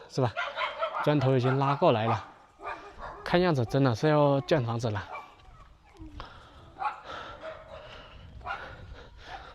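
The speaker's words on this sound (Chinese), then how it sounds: "听到狗了" Dogs bark in a Guizhou village lane beside an old tiled house, with several loud, close bursts of yelping barks between stretches of someone talking.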